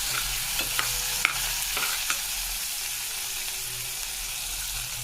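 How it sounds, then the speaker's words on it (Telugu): Ginger garlic paste frying in a pan for tomato pulao, a steady close sizzle with a few light clicks of stirring throughout, no talking. "అల్లం వెల్లుల్లి పేస్ట్ పచ్చి వాసన పోయేంత వరకు బాగా వేగనివ్వాలి."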